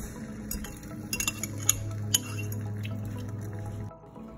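Whisked egg and vegetable omelette mixture poured from a bowl into a pan, a soft continuous liquid pour with a few light splashes and utensil clinks, fairly close, ending abruptly near the end.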